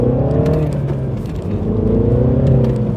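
2016 Mini Clubman Cooper S accelerating in sport mode on a wet road, engine note rising and falling through the revs, loud and close inside the cabin, without talking.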